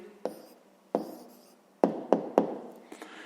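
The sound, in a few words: writing down the answer of a math exercise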